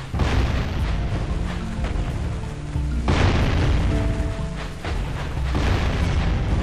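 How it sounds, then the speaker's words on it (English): Bombs burst one after another in the video game Jak and Daxter: The Precursor Legacy, at a beach, a dense, loud stretch of deep booming explosions with rumbling low end and a few distinct heavier blasts, no talking. "He's launching bombs at me"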